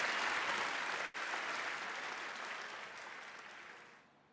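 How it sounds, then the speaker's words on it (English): An audience at a livestreamed professional summit applauds in a dense, steady roar of clapping that thins and fades toward the end, briefly broken by a momentary dropout. "I see your hands clapping."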